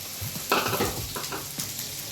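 Okra hits hot oil and starts frying, a soft burst of sizzling with a few gentle stirring knocks, fairly quiet and close.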